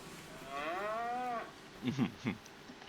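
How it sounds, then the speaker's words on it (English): Cattle mooing in the Farming Simulator 25 video game: one long, drawn-out moo with a rising then falling pitch, followed by several short, lower grunting moos, all clear and close with no talk. "I will leave you guys with a parting shot of cows"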